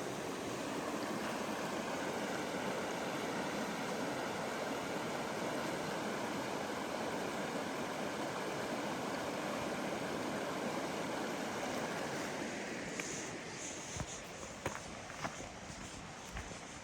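Panther Creek running along a still, easy stretch near a campground path, a steady broadband rush of flowing water close by, continuous throughout with a few faint clicks and footfalls toward the end.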